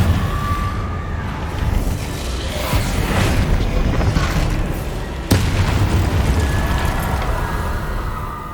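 Confringo blasting spell going off in Hogwarts Legacy, loud booming explosions with rumbling debris and a sharp second blast midway, no talk.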